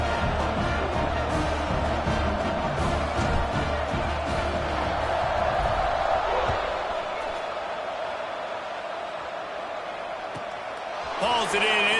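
A big football stadium crowd at kickoff in a Florida State versus North Carolina game roars steadily as a dense, loud wash of cheering that eases slightly after a few seconds, then swells again near the end.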